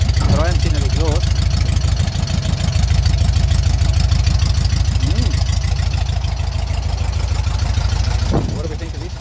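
A car engine idles steadily at an auction, a low continuous rumble that runs throughout while someone talks over it nearby.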